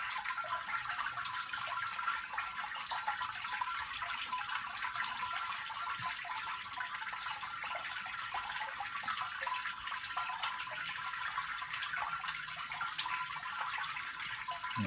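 Water drains steadily inside a BigBrew beer brewing machine, a faint, continuous trickling and hissing flow that holds even for the whole stretch with no talking.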